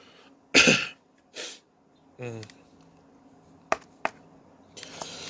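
A single sharp sneeze bursts out, close and loud, followed by a short voiced sound and a couple of faint clicks.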